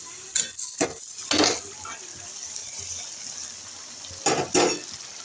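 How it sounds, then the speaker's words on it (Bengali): Bottle gourd stirred into fried onions in a pan, a low sizzle broken by a few scraping and clattering spatula strokes at the start and again near the end. "দেখুন পেঁয়াজটা ভাজা হয়ে গেছে, আমি এখন একটু লাউ দিয়ে দেবো।"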